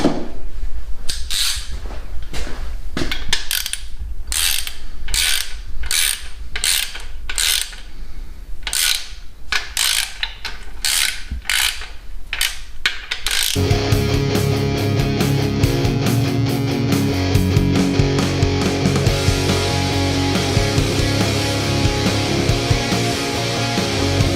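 A torque wrench ratchets to tighten the center bolt on a 1989 Chrysler Conquest TSI, giving loud, evenly spaced clicks up close that give way to a dense metallic mechanical clatter partway through.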